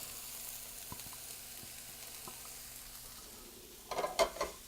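Onions, minced garlic and peppers frying in a pan, with a faint steady sizzle and a few light utensil clicks, then a louder burst of stirring and spatula scraping near the end.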